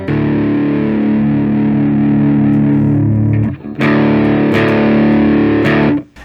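Sustained, heavily distorted electric guitar chords through an Ibanez distortion pedal with the drive turned up, ringing loud and saturated, with a brief dip before a fresh strum about two-thirds through, then cutting off at the end.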